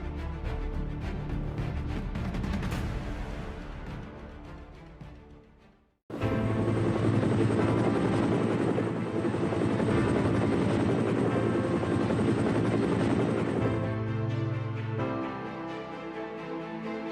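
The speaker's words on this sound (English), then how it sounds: "A helicopter's rotors are really its wings" Continuous loud helicopter rotor and engine roar, broken by a short gap partway through and then resuming with heavy broadband thump and whine; a military helicopter such as a Black Hawk.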